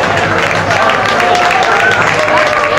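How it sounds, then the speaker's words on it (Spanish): An audience applauds at the presentation of a Gitano association, with continuous clapping and crowd noise and voices mixed in throughout. "Él se merece un aplauso"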